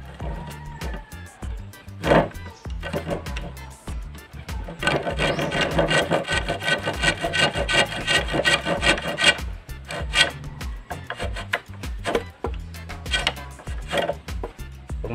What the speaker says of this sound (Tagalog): una niyan is lagarin mo dito